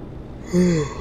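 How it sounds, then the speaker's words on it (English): A single short human yawn, a brief rising then falling voiced exhale heard up close after quiet background hum. "Time to yawn, apparently."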